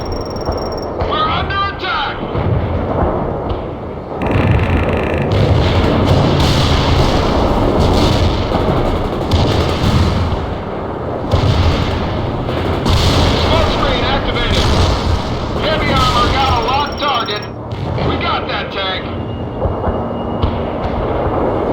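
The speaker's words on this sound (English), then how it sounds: "Bradley returning fire at hostiles." Continuous heavy gunfire and booming artillery blasts in the real-time strategy battle game World in Conflict, loud and dense throughout, with a Bradley fighting vehicle returning fire and radio-style voices talking over the combat.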